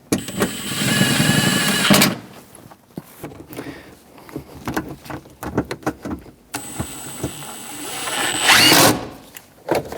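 Power tool driving the bottom bolts on a 2003-2025 Chevrolet Express 2500, two loud close whirring bursts at the start and end separated by clicks and rattling tool handling.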